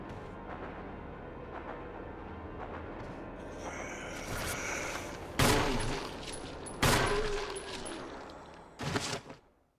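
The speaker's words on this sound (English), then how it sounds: "Hold the gun, shoot his head." Gunshots in Resident Evil, with a run of loud, sharp close blasts spaced a second or so apart over constant game ambience and no talking.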